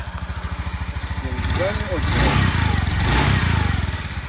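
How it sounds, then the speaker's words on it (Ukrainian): A Honda Zoomer X 110cc fuel-injected scooter engine runs close by with a rapid putter, briefly revving louder in the middle, while a person talks over it. "Двигунчик такий схожий на мотоцикла якогось малокубатурного, якусь 125-ку, дуже приємно так працює."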